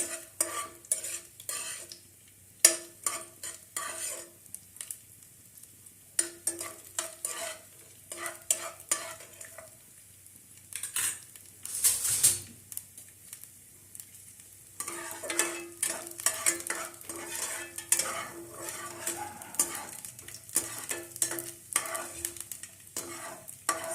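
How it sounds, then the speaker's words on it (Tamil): Grated coconut roasting in ghee in a pan for moong dal payasam, stirred continuously with a utensil that scrapes and clinks against the metal over a light sizzle, up close and without speech. "தேங்காய் நல்லா ரோஸ்ட் ஆகணும் கொஞ்சம் நல்லா கோல்டன் ப்ரௌன் ஆகணும்"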